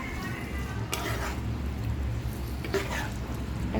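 Cooked beef being stir-fried in a pan for beef pickle, a steady dense sizzle with scraping stirs and a couple of sharper utensil knocks, close and continuous throughout.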